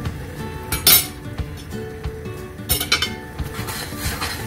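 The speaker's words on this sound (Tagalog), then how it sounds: "Halu-haluin mo lang siya." Utensils clatter and clink against a pot of seafood ramen with shrimp as it is stirred, giving irregular metallic taps and scrapes, two of them sharper and louder, with no voices.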